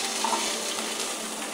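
Corn sizzles in melted ghee in a pan on a gas stove, a constant bright crackling hiss with no pauses and no talking.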